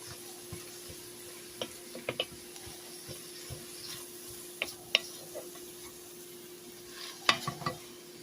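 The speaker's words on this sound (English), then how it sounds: "You want to get every single piece mixed in to that butter, to that bacon" Mixed greens sauté in butter and bacon, a faint background sizzle with scattered stirring clicks and a few sharper utensil knocks near the pan, no voices.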